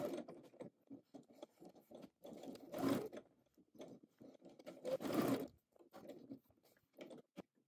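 Sewing machine edge-stitching a pocket, a quiet mechanical whir and tick in short bursts of stitching separated by pauses, close by with no talking.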